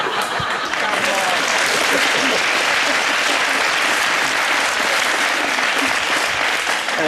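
A television studio audience breaks into dense, loud, sustained applause that fills the whole stretch at an even level.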